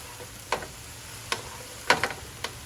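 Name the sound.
fried rice cooking in a pan over medium heat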